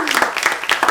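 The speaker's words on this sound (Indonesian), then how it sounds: "tepuk tangan lagi." Studio audience clapping during a lively Islamic quiz show between rounds, a short burst of bright, dense applause with a brief voice underneath.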